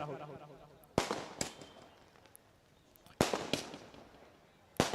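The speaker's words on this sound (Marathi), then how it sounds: "फटाक्यांची आतिषबाजी" Firecrackers at a prize ceremony, two sharp loud bangs each followed by quick crackling pops and fading rumble, then a third burst at the end, with faint voices beneath.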